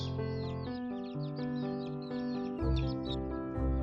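Several improved chickens cluck and chatter in quick overlapping bursts, close and busy, with a low thump near the end.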